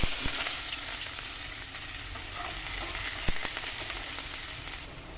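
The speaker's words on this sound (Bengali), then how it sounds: "আলুগুলো একটু লাল করে ভেজে নেব" Potatoes fry in hot oil with a continuous, even hiss and crackle close by, and a couple of brief knocks as they are moved in the pan.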